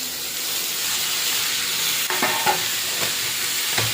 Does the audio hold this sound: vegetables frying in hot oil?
yes